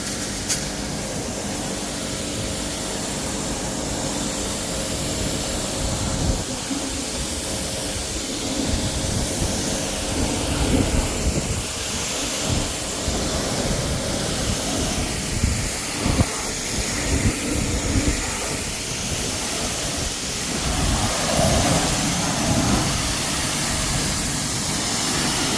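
A pressure washer blasts the back end of a dirty Ford Mondeo outdoors, a continuous loud roaring hiss of spray that shifts slightly as the jet moves across the car, with no talk.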